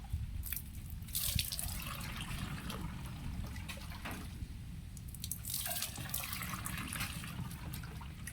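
Rainwater is strained into a container, making a continuous close splashing trickle with a steady watery rush and scattered drips throughout.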